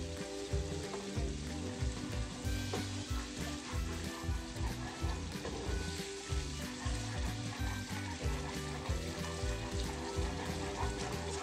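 Poori dough frying in hot oil for a halwa poori meal, a continuous close sizzle and bubbling crackle at a steady level throughout, with no talking.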